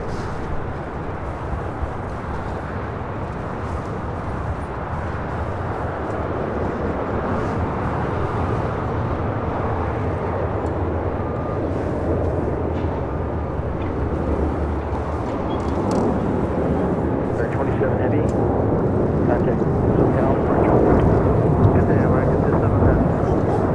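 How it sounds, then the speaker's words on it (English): An American Airlines Boeing 787-8 Dreamliner rolls down runway 25 Right at LAX on takeoff, its broad engine roar steady and building slightly toward the end, heard from nearby without talk. "That was American Airlines Flight 27 taking off to Tokyo Haneda on a 787-8 Dreamliner."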